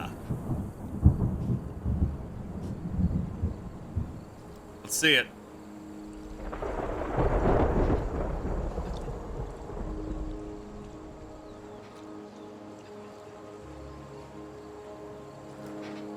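Thunder rolls through a rainy storm in the video game Terra Nil, a heavy rumble swelling midway over a steady rain hiss and soft game tones, with someone talking on and off.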